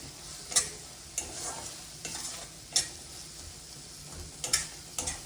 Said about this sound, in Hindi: तो अभी ये मसाला पकने में है।